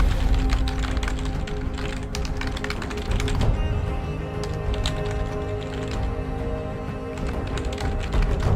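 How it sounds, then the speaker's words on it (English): Rapid computer keyboard typing during a League of Legends session, a dense run of close clicky key taps in uneven bursts, with brief gaps between flurries and no talking. "sorry, I'm typing"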